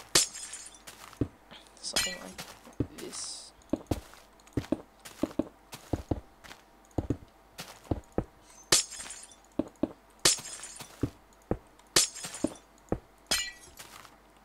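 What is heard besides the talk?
glass blocks being placed in a block-building video game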